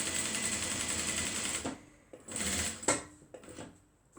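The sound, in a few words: sewing machine stitching mini bag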